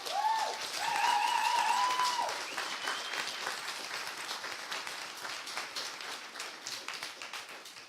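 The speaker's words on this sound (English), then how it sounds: "can we get a round of applause?" Round of applause from the audience at the opening of the FACE Summit 2023, strongest at the start and fading slowly. A lone voice with rising and falling tone is heard briefly over the clapping.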